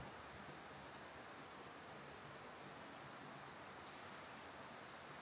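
Steady rain falls continuously on a first day in the Philippines, a dense, even hiss of drops on surfaces with no voices, soft and constant throughout.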